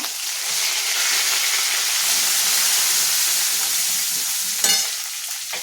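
A tempering with asafoetida hisses loudly in a hot pan for pigeon pea dal, a bright continuous sizzle that holds steady, with a brief clatter near the end.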